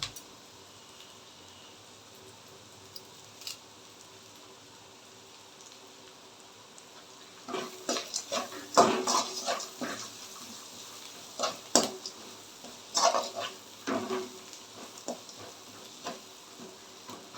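Semiya (vermicelli) upma with asafoetida is stir-fried in a pan. After a quiet start, irregular close scraping and crackling sizzle bursts rise and fall in short clusters.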